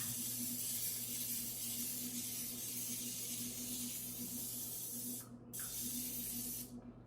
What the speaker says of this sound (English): I like nonstick spray.